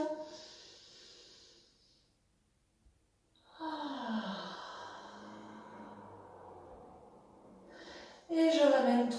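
During a Pilates floor exercise, a woman draws in a long, deep breath and then lets out a slow, audible exhale close to the mic, followed by a sharper breathy sound at the end.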